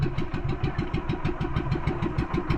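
A fishing boat's engine runs close by, a steady throbbing chug with a regular rhythmic pulse and no talk over it.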